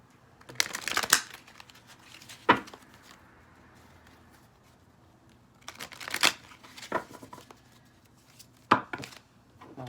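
Tarot cards being shuffled in a few distinct bursts of riffling and bridging, close and clear, separated by quiet gaps and with no one talking.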